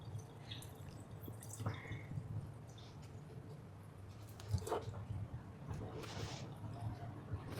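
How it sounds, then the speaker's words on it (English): A wet cloth is wrung out by hand over a kitchen counter, giving quiet, close drips and small squishing splashes scattered over several seconds against a low steady hum. "Wring it out real good."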